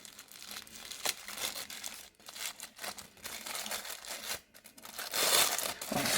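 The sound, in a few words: unwrapping and opening a wrapped gift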